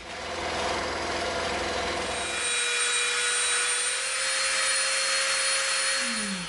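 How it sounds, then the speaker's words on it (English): Scroll saw cutting through EVA foam for a samurai helmet build, a steady loud motor whine with a sustained tone that holds throughout, alone with no talk. "So we're going to cut this on the scroll saw real quick."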